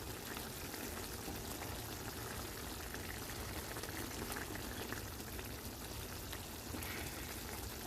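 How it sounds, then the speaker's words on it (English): A pot of papas rellenas filling with wine and seasonings bubbles and boils steadily, a continuous faint fizzing and popping close by with no voices. "I'm gonna let this boil all up and simmer down."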